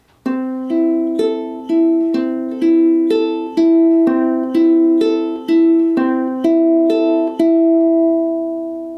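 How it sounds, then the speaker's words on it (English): A ukulele fingerpicked with thumb, index and middle fingers plays a steady, evenly spaced pattern of plucked notes, ringing up close and alone, the final notes left to sustain and fade. "we're actually very close to the finger picking pattern that we're using for this song"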